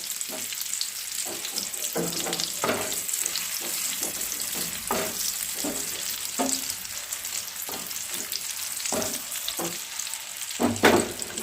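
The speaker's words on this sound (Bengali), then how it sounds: "তেলটা গরম হয়ে গেছে, এবার আমি দিয়ে দিচ্ছি এইগুলোকে দিয়ে ভেজে নিচ্ছি।" Banana flower and egg fritters shallow-fry in hot oil in a nonstick pan, giving a steady close sizzle broken by repeated scraping and stirring clicks, with no talking.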